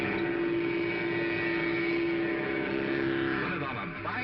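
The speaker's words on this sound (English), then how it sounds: "Sounds like a real engine." Mattel Baroom hot rod toy engine from the 1950s running with a steady, buzzing mechanical drone, fairly close and even, fading slightly at the end.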